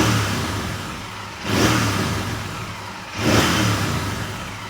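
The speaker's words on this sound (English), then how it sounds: "You twist the throttle." Royal Enfield Interceptor 650 parallel-twin engine, fitted with a Pro Racing fuel module, blipped twice with the throttle, each rev rising sharply over a steady close idle before settling back.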